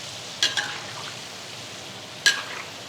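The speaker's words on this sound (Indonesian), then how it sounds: "Dan ini kita goreng aja sampai matang." Chicken karaage frying in hot oil gives a steady crackling sizzle, broken twice by sharp clattering stirs or utensil taps against the pan.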